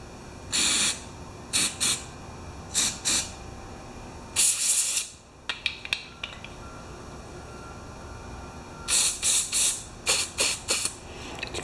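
Carburetor cleaner sprayed through the inlet of a small two-stroke carburetor, several short sharp hissing bursts in uneven groups, close and loud, with faint metallic handling noises between them.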